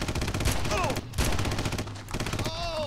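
Rapid gunfire in the video game Red Faction rattles in dense, loud bursts, close and continuous with short gaps, overlaid with sci-fi whooshes and chirps from the game.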